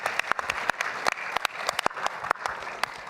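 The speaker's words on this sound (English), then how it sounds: "Please join me in giving Tom a round of applause" Audience applause at a space domain awareness challenge pitch-off, a dense, steady patter of many hands with sharp individual claps standing out, close and lively, with no talk over it.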